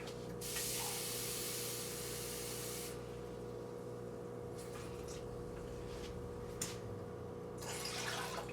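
A cup of water is poured into a soy sauce marinade for Korean marinated eggs, giving a steady close splashing stream for a couple of seconds, then softer trickles and drips.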